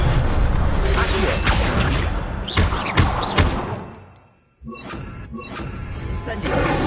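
Accio summoning spell cast in Hogwarts Legacy, a string of whooshing magical bursts and thuds layered over game sound, briefly cutting to near silence before resuming.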